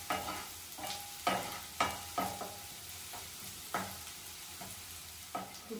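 Onions frying lightly in a pan for a chicken roll, stirred now and then: a steady low sizzle with repeated scraping stir strokes at a loose irregular rhythm, close by and moderately loud, with no talk.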